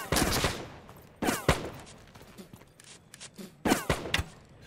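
Musket gunfire in the game Bannerlord with the Guns & Powder mod: several loud, sharp volleys and scattered shots crack out close by in uneven bursts, with echoing tails between them.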